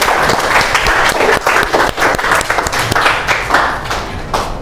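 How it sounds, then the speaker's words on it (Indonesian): Classmates in a classroom clap for a fellow student, a steady, close burst of many hands clapping together throughout. "tepuk tangan buat temannya"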